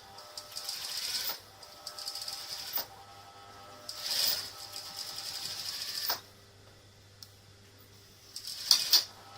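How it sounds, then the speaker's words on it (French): Sewing machine stitching the second topstitch line along a trouser zipper, a close steady mechanical whir in several bursts of a few seconds each, with brief clicks and pauses between runs, no speech. "Je vais faire la deuxième piqûre puisque sur ce modèle il y avait une deuxième piqûre."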